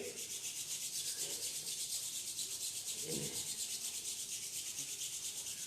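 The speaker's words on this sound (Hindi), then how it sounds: "दोनों हाथों को रब करेंगे" Two hands rub briskly together during a yoga session, a close, soft, rhythmic swishing friction repeating steadily for several seconds with no voice over it.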